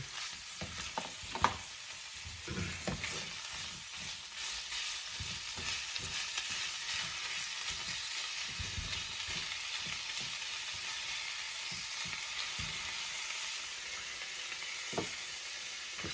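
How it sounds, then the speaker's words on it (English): Steaks frying in a hot pan give a steady, loud sizzle with crackling pops that runs the full length, with a few sharper spatters and no voices. "throw in the steaks. And that way it'll all cook together."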